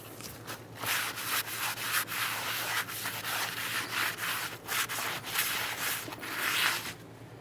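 Parts cleaner is sprayed and a rag rubbed over the mating and braking surfaces of a rear brake drum from a 1994-2001 Dodge Ram 1500, giving close, rhythmic scrubbing strokes in quick succession.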